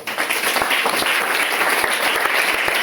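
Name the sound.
congregation applauding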